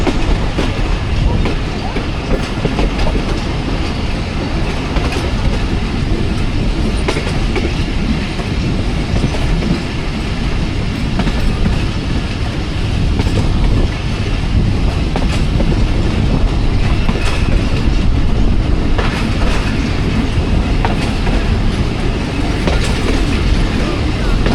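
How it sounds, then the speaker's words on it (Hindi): An overloaded passenger train in Pakistan running on rails, a loud continuous rumble with steady clickety-clack of wheels over track joints and occasional faint squeal, heard from close on board throughout. "तो एक वक्त में एक ही लाइन आपको दिखा सकता हूँ क्योंकि ट्रेन हमारी ओवरलोड हो चुकी है।"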